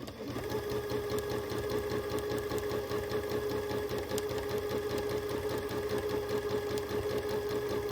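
A sewing machine hums in one continuous, evenly pulsing run while free motion quilting a long wavy line, close and steady throughout with a faint tonal whine and no pauses or talking.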